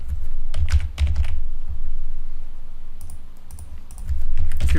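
Fingers type a password on a computer keyboard while connecting to an Oracle database, quick irregular bursts of clicky keystrokes with short pauses, close and clear with no talk.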